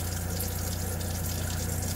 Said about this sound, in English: So I am going to go turn that pump on